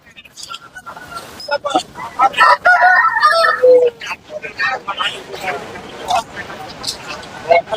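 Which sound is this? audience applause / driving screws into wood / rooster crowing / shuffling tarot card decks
rooster crowing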